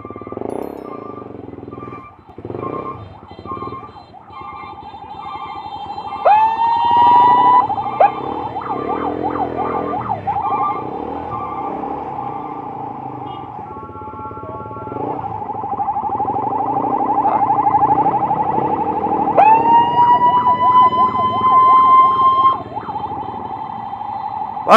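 An ambulance siren wails in rising and falling cycles as it works through congested traffic, growing louder and nearer over a murmur of engines, with two distinct bursts of the siren and no talking.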